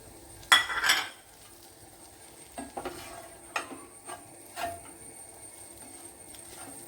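Leftover parotta is dropped into a pan with a loud metallic clatter, followed by a few lighter scrapes and clinks of a utensil stirring, with a faint sizzle underneath.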